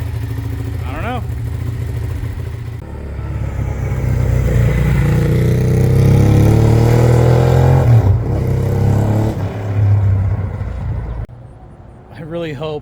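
Suzuki SV650 motorcycle with a tapping cam chain, revved in bursts while it warms up after sitting abandoned; the engine note rises and falls close by, loud, with brief talk near the end.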